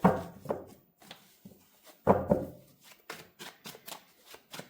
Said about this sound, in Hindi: मैं डायरेक्ट कार्ड्स निकाल रही हूँ